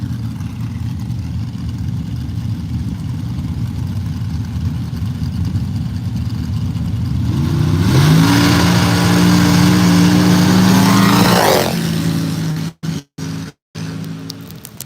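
A sand drag racing dragster at a Southern Powersports Drag Racing Series event at Tri County 4 Wheelers idles with a low rumble, then roars louder as it launches down the lane and fades, followed by brief sharp dropouts.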